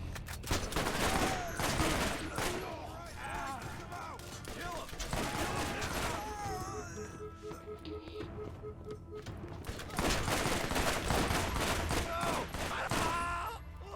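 Rapid gunfire in the Borderlands shooter game, dense bursts of shots and clattering automatic fire with a brief lull in the middle, alongside game voices.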